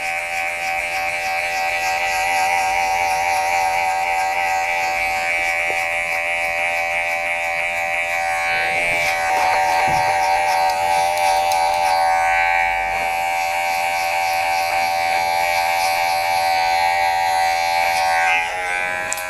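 Electric hair clippers cut hair during a short grown-out buzz cut. A steady, close, high-pitched motor hum runs throughout, with brief dips and changes in tone as the blade moves through the hair.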